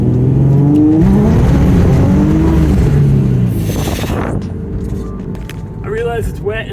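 A Nissan 350Z engine idles with a slight fluctuation caused by a small vacuum leak, its loud low rumble wavering, then easing off as a voice speaks near the end.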